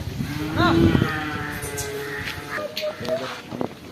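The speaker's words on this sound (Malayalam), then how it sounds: "ഇത് ഷെഡിൽ കുറേ പശുകളുണ്ട്" Cows tethered in a shed at a busy Sunday market moo, one loud rising call early on followed by quieter lowing and scattered market clatter and distant chatter.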